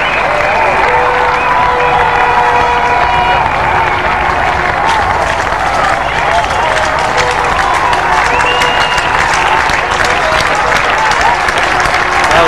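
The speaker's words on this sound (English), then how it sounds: "He's getting a standing ovation from not only the crowd, his teammates" Stadium crowd applauding and cheering in a standing ovation for batsman Rahul Dravid's century innings in India vs New Zealand cricket at Hamilton, 1999; loud sustained clapping throughout with commentary voices over it.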